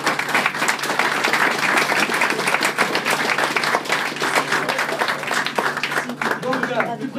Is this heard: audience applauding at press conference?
yes